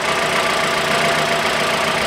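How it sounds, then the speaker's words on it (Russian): The 1.8-litre engine of a 2013 Mitsubishi ASX idles steadily and evenly after a spark plug replacement, a close, constant mechanical hum with no talking. "Сейчас двигатель работает"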